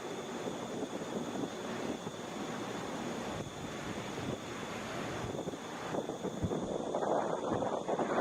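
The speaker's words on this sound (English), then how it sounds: "Headed for Houston, Boeing 737 there" A United Boeing 737 departs Atlanta International Airport for Houston as a steady, broad jet roar holds throughout, mixed with wind buffeting on the microphone and swelling slightly toward the end.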